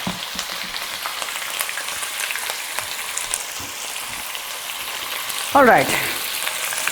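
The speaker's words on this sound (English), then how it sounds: "I'm going to put the shrimp in it and it's going to splatter all over" Shrimp sizzling in hot oil for a shrimp and tindora curry, a continuous fry hiss with stirring taps, then a sudden loud burst of splattering as the shrimp drop in; a voice speaks briefly.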